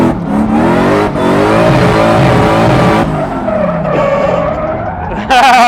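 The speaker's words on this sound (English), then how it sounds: "Who's ready for some drifting, eh?" Supercharged 1UZ V8 drift truck sliding, its engine revving hard in rising and falling pitch while the tires squeal and skid loudly throughout, with a sharp burst at the end.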